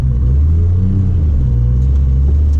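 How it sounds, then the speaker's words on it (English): A Nissan 240SX with a built RB25 engine rumbles loudly and continuously at close range, a deep sustained engine drone held at raised revs with no voices over it. "if I just rev it up high, we good"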